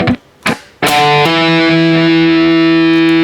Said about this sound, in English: And then you make a hammer on. So like this.